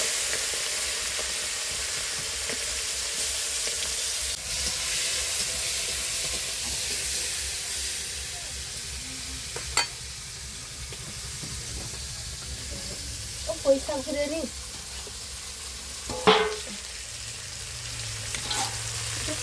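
Greens frying with fish and prawns in a pan give a steady soft sizzle, with a few sharp clinks and stirring noises and a short spoken remark partway through.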